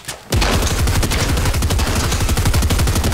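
Rapid automatic gunfire in the video game Fortnite, a loud sustained burst of closely spaced shots running for about three seconds after a brief quiet start.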